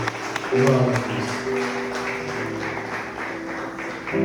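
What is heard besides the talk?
church congregation applauding to welcome the presbyter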